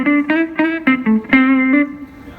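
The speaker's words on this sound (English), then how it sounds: "a Keeley two-knob compressor, the old kind, which just basically smooths out everything" Soft electric guitar played through an old two-knob Keeley compressor, a short run of about eight evenly smoothed, sustained single notes close up and alone, with the last note ringing out.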